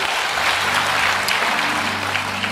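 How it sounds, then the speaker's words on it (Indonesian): A church congregation claps together for God, a continuous, fairly loud wash of applause with a sustained musical tone humming beneath it throughout. "Berikan tepuk tangan kita untuk Tuhan kita"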